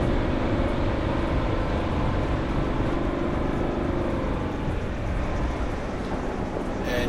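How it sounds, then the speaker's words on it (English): Vehicle engine climbing through the gears on the Humffray River Track from Mt Selwyn to Mt Murray, a dense steady drone that swells slightly as speed picks up, heard from inside the cabin with no talking. "you can hear the engine revving a little bit as it's picking up a little bit of speed"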